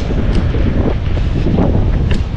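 Steady early-morning wind in a Madrid street buffeting the microphone, a constant low rumble and rush throughout with no voices.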